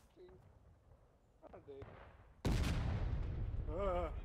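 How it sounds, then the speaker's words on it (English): A cannon in War of Rights fires with a single sudden heavy boom that rolls on into a sustained rumble, following quieter moments with a few spoken words, and someone talks over the lingering roar. "Yep, that was a cannonball, Kaz."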